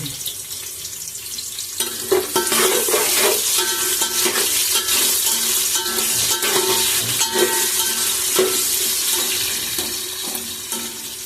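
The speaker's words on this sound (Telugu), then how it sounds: "ఉల్లిపాయ ముక్కలు వేసుకుని లైట్ గోల్డెన్ షేడ్ వచ్చేంత వరకు మనం వేయించుకోవాలి" Onion pieces frying in hot oil for a vegetable biryani, giving a steady, close sizzle with stirring clatter throughout and no talk.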